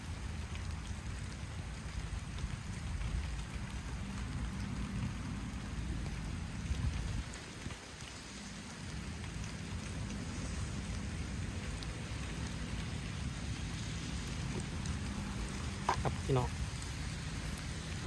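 Heavy rain pours over a rice-field fishing spot as a storm moves in, a steady dense hiss and roar that runs almost unbroken, dipping only briefly near the middle.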